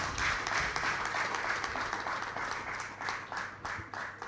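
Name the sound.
audience applause for the chairman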